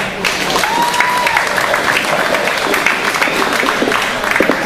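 Sustained crowd applause and cheering at a 4WD radio-controlled buggy race championship, dense clapping filling the whole stretch with a few louder claps near the end.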